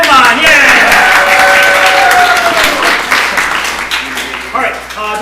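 Audience applause and clapping fill a live comedy improv showcase as three performers are called up, loud and sustained for several seconds, with cheering mixed in and fading slightly toward the end.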